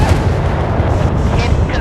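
Warship guns boom in the Force of Warships naval video game; dense, low rumbling blasts overlap in a continuous barrage, loud and close, while a game voice speaks.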